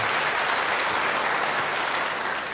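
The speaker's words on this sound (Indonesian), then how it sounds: "Beri tepuk tangan yang baik buat dia." Loud, dense applause from a church congregation, a continuous wash of many hands clapping at close range that holds steady for the whole stretch.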